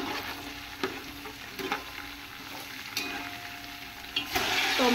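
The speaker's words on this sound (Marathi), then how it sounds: "ॲड करणार आहोत आणि टोमॅटो चांगले शिजून देणार आहोत" Tomatoes cooking in oil with ginger, garlic, bay leaf and black cardamom for chicken korma, a soft steady sizzle broken by occasional utensil clinks and stirs, growing louder near the end.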